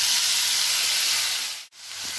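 A steady, bright hiss of fruit and nuts frying in hot ghee, briefly cutting out near the end before resuming.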